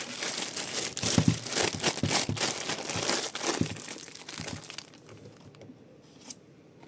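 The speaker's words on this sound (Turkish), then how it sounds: "Denetleyiciyi de güzel güzelce poşetleyelim." A game controller is wrapped in a plastic bag: steady, close crinkling and rustling of the bag with sharp crunches, tapering off toward the end with one last faint rustle.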